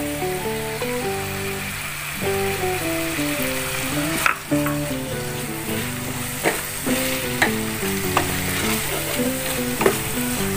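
Stink beans (pete) stir-fried into a tuna sambal, a loud steady sizzle with repeated scraping stirs of a spatula against the pan, over light background music and no talking.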